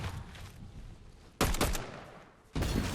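Bursts of automatic gunfire in the Fortnite video game, two loud rapid volleys separated by a quieter stretch of background game noise, close and without voices.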